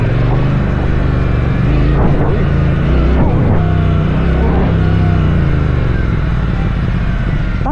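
A Brixton Cromwell 1200 X Cross Country Edition motorcycle engine revs at 40% throttle, a loud, steady close-up drone with rising and falling pitch sweeps throughout.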